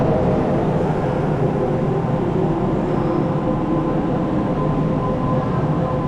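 Steady, loud rumble of a Japanese metro train in Osaka, a continuous broadband roar running throughout with no talk.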